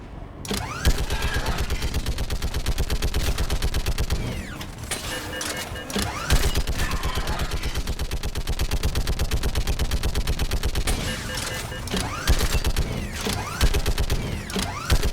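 Rapid mounted turret gunfire in the Mass Effect 3 video game, a dense, sustained burst of mechanical shots with clanking, creaking machinery, continuing almost without pause and briefly easing midway.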